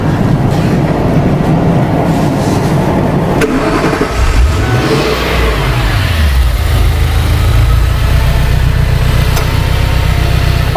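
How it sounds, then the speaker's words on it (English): A 2003 Ford Thunderbird with a throttle fault cranks and catches, its engine rising into a loud, steady idle with a deep low rumble close by. No one speaks. "Now let's go ahead and start this vehicle up and see if we can get it to stall again"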